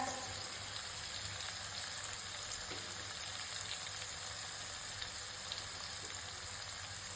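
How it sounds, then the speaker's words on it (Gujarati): Chopped tomatoes sautéing in hot oil for Kathiyawadi vaghareli khichdi, a steady close sizzle and crackle with faint occasional stirring, no talk. "આ રીતે આપણે સાતરતા જાશું."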